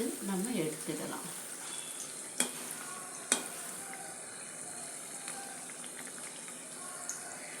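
Kara vadai deep-frying in hot oil, a continuous close sizzle and hiss running throughout, broken by a couple of sharp pops, with a voice speaking briefly at the start.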